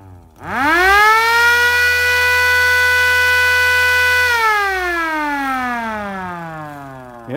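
A small battery-powered mini siren is tested indoors, one loud rising wail that holds steady and then slowly winds down, close and alone with no talk.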